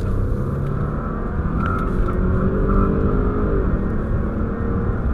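A heavy luxury car accelerates in sport mode, its engine and road noise forming a steady, loud, close drone with a faint rising whir and no talking.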